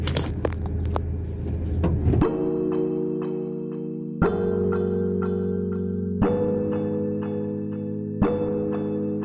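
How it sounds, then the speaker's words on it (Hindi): A truck's diesel engine rumbles steadily up close as it swings through a U-turn on a road toward Nagpur, with clanks and rattles at regular intervals and loud engine tone throughout. "आ जाओ भाई यू टर्न करते हैं गाड़ी"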